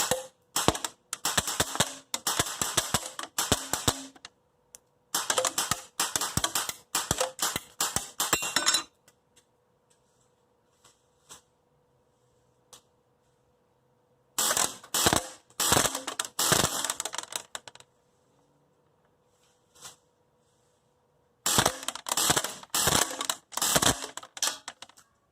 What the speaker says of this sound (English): I'm going to put some semi-auto shots into the big target. And I'm going to put some full auto bursts, 6-round bursts into it